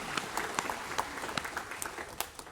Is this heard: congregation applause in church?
yes